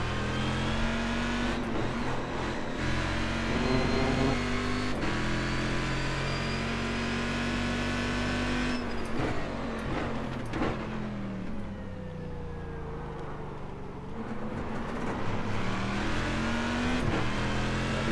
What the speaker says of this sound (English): Hopefully that meaty 7-liter V8 does some work once again